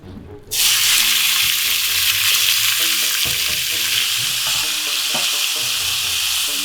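Meat sizzles and crackles loudly in hot olive oil, a steady frying hiss that starts abruptly and continues throughout with faint utensil clinks.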